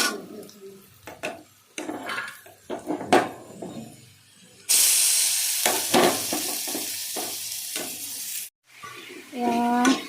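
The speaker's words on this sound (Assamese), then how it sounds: "ঘুগুনি বনাই আছে।" Ghugni cooks in a home kitchen with repeated scraping stirs in the pan and a loud burst of sizzling frying partway through, close and intermittent, with a short voice near the end.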